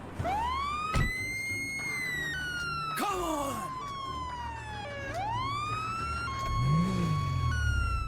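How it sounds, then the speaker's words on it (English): A shot-damaged police car siren in a GTA video game glitches, with sliding wails that rise, drop and restart erratically. It sounds close and loud, broken by a couple of sharp bangs and ending in a low engine-like sweep. "if you shoot the siren on cop cars, they start making this weird glitchy sound."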